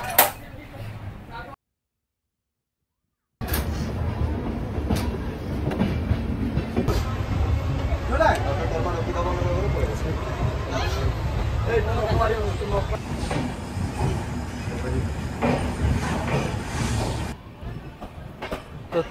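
12343 Darjeeling Mail train pulling out of Kishanganj station, a steady loud rumble with clickety-clack of wheels heard from inside the coach, following a brief silent gap near the start.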